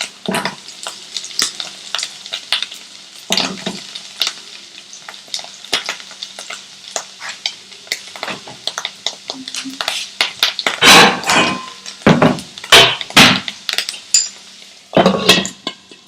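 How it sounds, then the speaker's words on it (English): Pieces of paneer frying in a pan, a soft sizzle underneath repeated clattering stirs and scrapes of a utensil against the pan, in bursts over a quiet background. "by just frying off the pieces of paneer"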